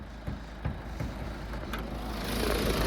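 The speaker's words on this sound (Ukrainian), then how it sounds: "двигунчик просто працює ідеально, без посторонніх шумів, звуків." A Hyundai Santa Fe 2.2 diesel engine idles close by with a steady low clatter and rhythmic knocking, smooth and unbroken, without any talking.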